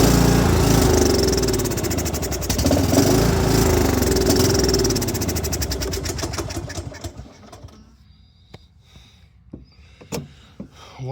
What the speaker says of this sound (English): Right there is where it clicks into full throttle, if you can hear that.